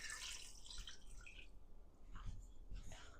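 Water poured into a cooking pot of oxtails for an oxtail boil makes a steady, close splashing pour with a continuous watery hiss that lasts throughout.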